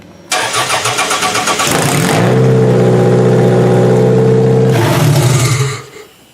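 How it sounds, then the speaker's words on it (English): A Toyota Solara derby car that had sat unused since February cranks in a rapid rhythmic churn for about two seconds, catches, and roars into a loud, close rumbling idle before cutting off. "Now let's hear this thing start up."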